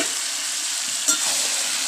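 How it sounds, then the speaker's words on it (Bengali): Chicken mixed with spices is stirred and fried in a pan, a steady, loud close-up sizzle with a single scrape of the spatula partway through and no voices. "এইভাবে 3 থেকে 4 মিনিট ভালো করে নাড়াচাড়া করে নিচ্ছি"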